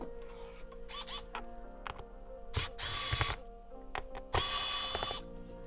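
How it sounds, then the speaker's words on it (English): Small high-speed dentist drill working on a laptop during a repair, giving short shrill whining bursts that start and stop several times, louder near the middle and end, over faint mechanical clicks and bench noise. "This is my dentist drill."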